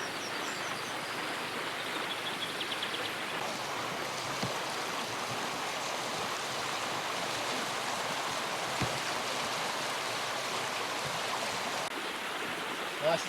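Steady rushing of a river flowing at a nearby ford beside a riverside camping spot on New Zealand's South Island, a continuous broadband wash that stays even and close throughout with no talk.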